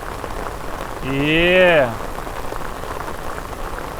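Steady rain falls during a fishing outing, a constant hiss of drops on surfaces. A voice briefly rises over it.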